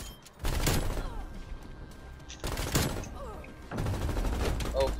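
Automatic gunfire from a gun in Call of Duty: Cold War comes in three loud, rattling bursts separated by brief, quieter gaps.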